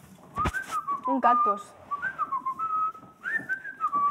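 Someone whistles a wandering, melodic tune up close, with a few brief spoken words near the start.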